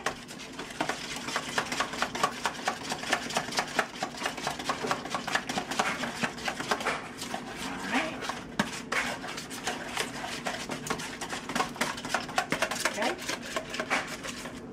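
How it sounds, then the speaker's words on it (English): Ingredients whisked briskly in a bowl in a home kitchen until smooth, a fast, steady rhythmic tapping and scraping that continues loud and close for the whole stretch. "whisk them together until they're lovely and smooth. And we'll mix."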